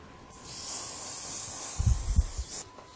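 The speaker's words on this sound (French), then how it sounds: "Je laque." Hairspray is sprayed onto a little girl's hair during styling, producing a steady, close hiss that lasts about two seconds before stopping, with a few soft handling bumps near the end.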